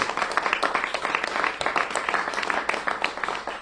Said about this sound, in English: It's okay to clap for that.